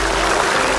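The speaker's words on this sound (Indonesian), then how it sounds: "tepuk tangan dong buat kita" Studio audience at an Indonesian comedy talk show breaking into applause, a dense, steady wash of clapping filling the whole short moment at even loudness.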